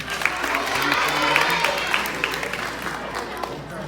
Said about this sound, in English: We'll clap for her.